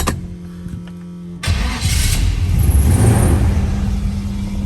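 A 1968 Chevrolet Nova engine cranks and fires suddenly, then rumbles loudly into a steady idle close by, with no voices.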